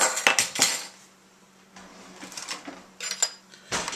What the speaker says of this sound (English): We're going to go ahead and stir that up.